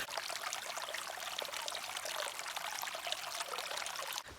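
Water rushes and splashes steadily nearby, a continuous bright gurgling flow with no voices.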